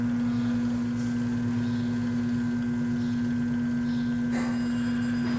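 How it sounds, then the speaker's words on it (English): An engine's rotating assembly spins in a balancing machine, giving a steady, even mechanical hum with a constant pitch at moderate loudness, and a brief faint metallic scrape near the end. "So now I got to set the RPM in the balancer."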